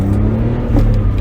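A BMW Z4's smaller inline engine revs steadily toward 6,500 rpm with a smooth, continuous hum, loud and close, with no voices.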